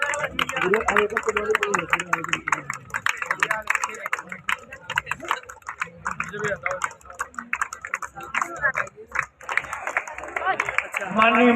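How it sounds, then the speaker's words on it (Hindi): Audience applause at the Banspar Mishra festival, with steady, lively clapping from a crowd that carries throughout while someone speaks over a loudspeaker. "तालियां बजाओ आप लोग।"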